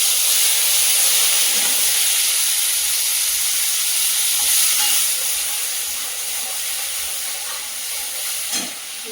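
Ground onion paste frying in hot oil with black cumin seeds, a loud steady hiss and sizzle filling the whole stretch, with a brief clink near the end.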